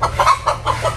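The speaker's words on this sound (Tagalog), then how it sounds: "Manok!" A chicken near a house where painters are working gives a quick series of four or five clucks, loud and close, in about one second.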